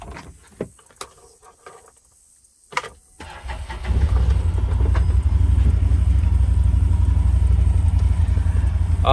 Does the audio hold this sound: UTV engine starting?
yes